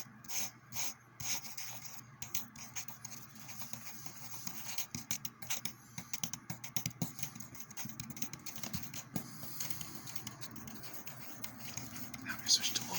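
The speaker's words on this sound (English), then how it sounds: "see how my nails sound on paper." Fingernails scratching and rubbing across paper in a close, quiet ASMR setting, a steady run of soft dry scrapes and brushes with a few sharper taps early on, low-level and intimate throughout.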